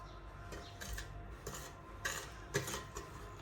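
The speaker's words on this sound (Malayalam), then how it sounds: "നമുക്കിനി നന്നായിട്ടൊന്ന് മിക്സ് ചെയ്തെടുക്കാം" A few light clinks and taps of a utensil against a bowl while powdered sugar is mixed in for an eggless teacake, with soft irregular strikes over a quiet kitchen background.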